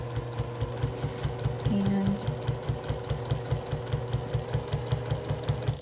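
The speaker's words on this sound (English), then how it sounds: "Now we're coming into the end and I'm going to go ahead and sew this down." A sewing machine stitches binding onto a quilted table runner, its needle chattering in a fast, even rhythm close by, with a brief low hum partway through.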